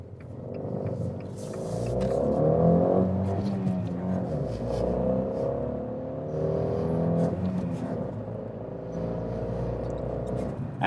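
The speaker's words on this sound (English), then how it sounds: "we are going to show you a 0 to 80, which has less to do with the speed and a lot more to do with the noise" A Fiat 500 with an 85-horsepower engine accelerates from standstill to 80, heard from inside the cabin as a rising engine drone that climbs through the gears with brief dips at shifts, steady and moderately loud.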